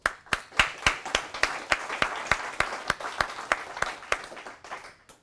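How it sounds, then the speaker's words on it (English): Conference audience applauding a talk about ecommerce platform upgrades, a steady burst of many hands clapping with sharp individual claps standing out, sustained for several seconds and tapering off at the end, with no talking over it. "I think they all deserve a big round of applause for their work on this"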